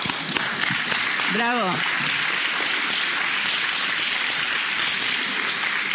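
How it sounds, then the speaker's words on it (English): An audience claps in applause for students at a lecture, a steady broad patter of many hands sustained throughout, with a voice calling out briefly over it. "I want to give an applause to all students."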